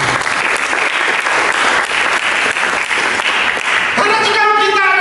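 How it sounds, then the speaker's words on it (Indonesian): An audience applauds loudly and steadily at a church gathering, a dense wash of clapping throughout, with a voice starting to speak over it near the end. "Mari kita berikan tepuk tangan."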